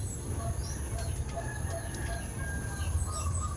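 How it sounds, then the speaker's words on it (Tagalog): Chickens cluck and call sporadically at a distance over a steady low hum and background ambience, with occasional faint bird chirps. "Kadungog kang mga huni sa manok,"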